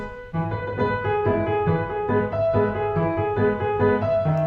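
Piano plays a steady waltz pattern, low bass note followed by two lighter chords, repeating in an even three-beat rhythm with melody on top.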